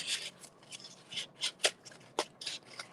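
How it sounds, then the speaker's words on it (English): Scissors cutting recycled cardboard, a series of soft crisp snips and rustles in irregular bursts, quiet and close, with no talking. "Oh yeah, scissors work really good too."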